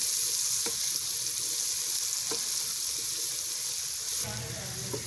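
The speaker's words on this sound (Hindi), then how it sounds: "बस ये हल्का सा हम 2 से 3 मिनट तक भूनेंगे" Masala with crushed red chilli roasting in a pan for Punjabi-style sarson ka saag, a steady sizzling hiss with occasional soft stirring scrapes, close and fairly quiet with no talking.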